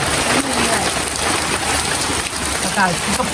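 Heavy rain falls on and leaks into a house, a dense, steady hiss filling the whole stretch with a brief voice near the end.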